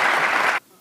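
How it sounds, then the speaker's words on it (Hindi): An indoor audience claps together in a loud, steady burst of applause that stops abruptly after about half a second, leaving near silence. "अच्छा लगा तो तालियां बजा दो।"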